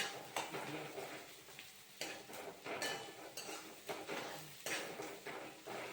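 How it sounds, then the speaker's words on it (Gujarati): Onions cook in a pan with peas, capsicum, chillies and cumin for bhaji while a spoon stirs them. Faint sizzling sits under repeated soft scraping strokes. "ડુંગળીને બરાબર શેકવા દેવાની ને ચડવા દેવાની"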